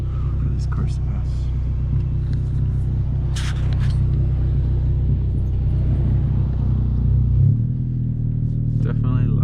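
Straight-piped 2021 Honda Civic FK7 hatchback with a Skunk2 exhaust, driving with a loud, low, droning engine rumble that shifts pitch near the end, while a quiet voice murmurs faintly.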